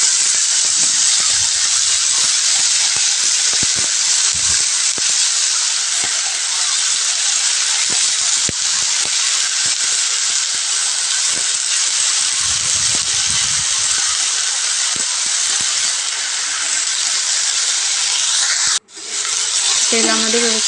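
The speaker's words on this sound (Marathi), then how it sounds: "आपल्याला त्या व्यवस्थित जी पात आहे ती तळून घ्यायची आपल्याला।" Spring onion greens fry in hot oil with a loud, continuous sizzle and hiss throughout, punctuated by soft stirring knocks, ending in a brief clatter.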